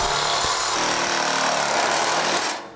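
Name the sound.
reciprocating saw with metal blade cutting tube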